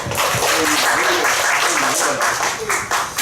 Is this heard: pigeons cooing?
no